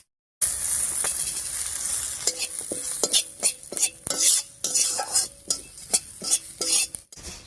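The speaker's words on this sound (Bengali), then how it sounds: "সব মশলাগুলো প্রায় ভাজা হয়ে গেছে" Cumin, fennel and coriander seeds fry in a pan with a soft, steady sizzle while a utensil stirs and scrapes against the metal in quick, rhythmic strokes, close and alone.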